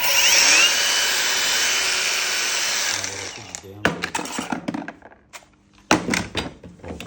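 A Makita cordless power screwdriver runs at very high speed with a steady, loud whine for about three seconds. Then it winds down into clicks, knocks and handling clatter.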